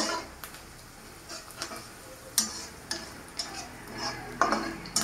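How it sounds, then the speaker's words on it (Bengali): Onions frying in a pan until reddish for a Bengali cauliflower, egg and potato curry, with a quiet background sizzle broken by several sharp spatula taps and scrapes, close but fairly soft. "পেঁয়াজটা একটু ভালো করে ভেজে নেব।"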